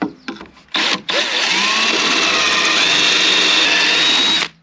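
A power drill bores pocket screw holes into wood for a gate, with a few short stuttering starts followed by a loud, steady, close whine lasting about three and a half seconds.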